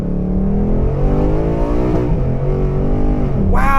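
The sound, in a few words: 2023 Ford Mustang Mach 1 accelerating, track mode gear shifts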